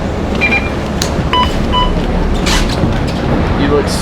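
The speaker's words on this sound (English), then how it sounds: "Just want to show you guys that we are in the bus and we are taking the bus." Interior rumble of a bus riding through Singapore, a steady loud engine and road drone with occasional rattles and clicks, with people talking over it.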